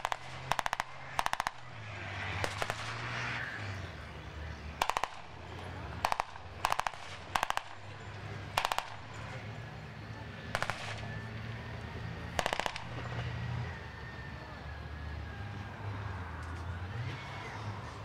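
Sharp bursts of blank gunfire crack out repeatedly during a British armour arena display at Bovington Tankfest, single shots and short clustered volleys over a low idling vehicle engine rumble, fairly distant and quiet overall.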